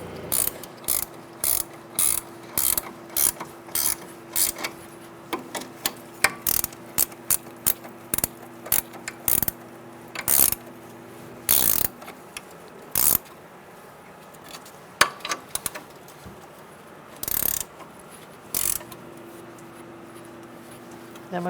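A hand ratchet snugging the front brake caliper bolts on a 2014–2018 Subaru Forester, with quick bursts of close, crisp clicking, pauses and scattered metallic knocks over about twenty seconds.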